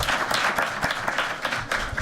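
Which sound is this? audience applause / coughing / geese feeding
audience applause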